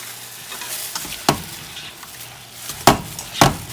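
About three tablespoons of oregano go into a hot, sizzling frying pan and get stirred, with a steady sizzle broken by a few sharp scraping knocks of the utensil against the pan.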